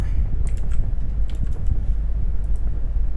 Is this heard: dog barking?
no